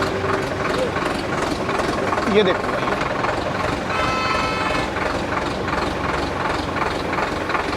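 A tractor's 4-cylinder engine running with a steady low throbbing idle as the tractor turns, close and constant, while someone talks over it.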